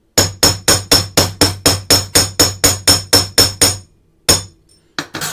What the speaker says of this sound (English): And notice when I'm hammering, I'm not tilting my hammer.